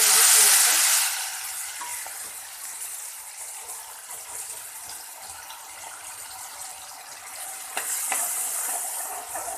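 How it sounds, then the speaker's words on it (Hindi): Mustard oil sizzling in a kadhai as ingredients are fried: a loud, bright burst of hiss at the start that settles into a steady, softer frying crackle, with a slight swell near the end. "मस्टर्ड ऑयल में ज़रा इनको मैं अच्छे से भून लूँगी"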